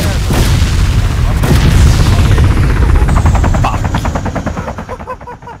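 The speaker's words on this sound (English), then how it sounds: "It's an attack, heli. Fire, it's behind." Attack helicopter and gunfire in the video game Arma 2: loud, dense bursts of shots and booms over a rotor drone, giving way to a rapid, rhythmic chopping that fades toward the end, with voices briefly heard.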